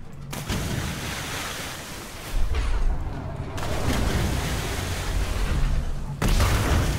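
Ship cannons firing during naval combat in Atlas, heavy booms at the start and recurring amid a rushing wash of sea and surf, loud and close.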